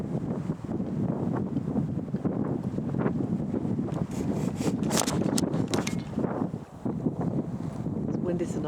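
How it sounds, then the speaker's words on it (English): Wind buffets a microphone outdoors at night beside a grassy lakeshore below barren hills, a steady low rumble with gusty bursts running throughout the clip. "It's windy tonight, guys."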